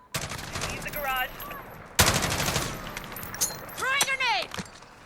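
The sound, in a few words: G36K rifle gunfire in video game Call of Duty Modern Warfare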